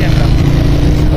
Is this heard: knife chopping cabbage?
no